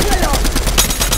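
Rapid bursts of gold SMG fire in the Fortnite Arena video game, a fast rattling stream of shots at a moderate level with other game sounds mixed in.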